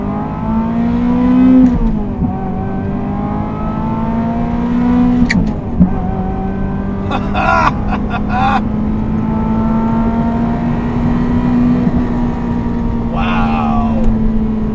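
A Ferrari F355 GTS with a manual gearbox revs hard while accelerating, a loud, close, sustained engine roar with pitch shifts at the gear changes and a voice briefly heard over it.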